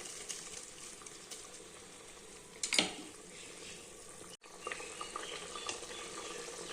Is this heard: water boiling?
yes